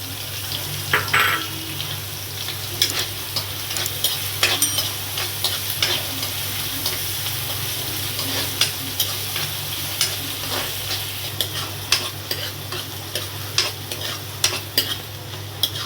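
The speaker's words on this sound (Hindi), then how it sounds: "थोड़ा प्याज का कलर चेंज हो जाए जब तक इसको फ्राई करूँगी।" Chopped green chilies and onions fry in a pan, giving a steady close sizzle broken by frequent light scrapes and clicks of stirring, with no talking.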